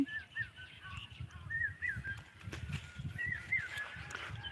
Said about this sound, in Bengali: আমাদের এই জায়গায় একটা কাক বলতেছে আর একটা কুকিল